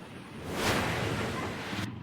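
Floodwater overflowing a spillway produces a steady, loud broadband rush, swelling briefly and staying continuous throughout, with no voices.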